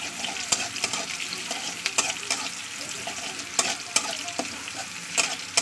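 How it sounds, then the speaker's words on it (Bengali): Boiled food frying in a pan with a steady close sizzle, broken by repeated sharp scrapes and knocks of a spatula stirring against the metal. "চলুন এটা লাল করে ভেজে নিই"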